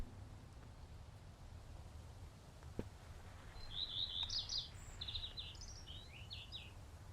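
A redstart chirps in a bird-watching video game, with a run of short, bright, high tweets starting midway through and repeating in quick bursts over a steady low ambient hum.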